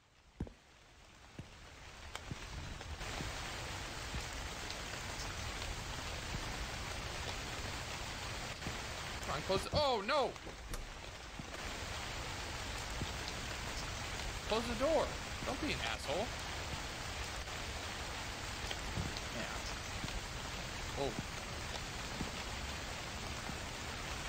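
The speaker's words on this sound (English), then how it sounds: "That rain is, it's a little loud." Steady, loud rain hisses continuously in the horror video game The Convenience Store, forming an unbroken wash of noise beneath a player's occasional startled remarks.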